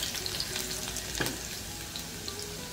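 Crushed garlic cloves frying in hot oil with cumin for a dal-rice khichdi, a soft steady sizzle with a single clink midway, no talking.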